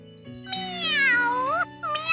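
Minette, a cat character in the game Bravely Second, lets out a loud, close, drawn-out meow with a wavering pitch, followed by a shorter second meow.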